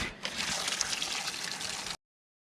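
Swimming pool filter running on backwash, water rushing and gushing loudly in a continuous noisy flow for about two seconds before stopping abruptly.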